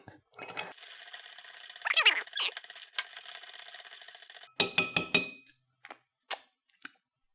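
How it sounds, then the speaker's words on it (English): Ice rattling and clinking in a cocktail shaker while a red cocktail is mixed: a scattered rattle first, then sharp, loud shaking bursts that trail off into a few isolated knocks. "get our ice, pour it in, and we will mix this for the right amount of time"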